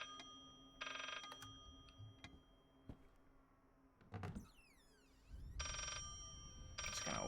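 Telephone in the horror game Layers of Fear ringing in bright electronic bursts that repeat three times, spaced by quiet stretches holding creaks and mechanical whirring; no talk is heard.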